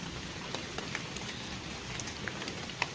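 Heavy rain falls steadily outdoors at night as a dense, constant hiss, with scattered louder drops striking nearby surfaces and no voices.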